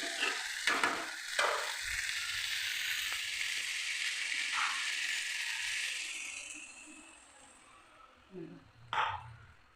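Water is poured into a pan of frying masala with potatoes and eggs, giving a loud sizzling rush that gradually dies down, with brief utensil clanks and stirring at the start and end.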